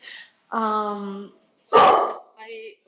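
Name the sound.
dog barking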